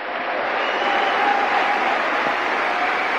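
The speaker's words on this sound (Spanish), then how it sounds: "Le damos un aplauso" A church congregation breaks into warm, sustained applause that fills the sanctuary, a dense continuous wash of clapping at even volume with no speech over it.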